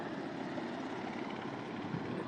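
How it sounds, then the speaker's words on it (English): Helicopter bearing a Red Cross symbol hovering low over a crowd on Swann Street in DC, its rotor wash kicking up debris; a loud, steady, close rotor-and-engine roar fills the whole stretch with no break. "they're being psychologically terrorized by this helicopter"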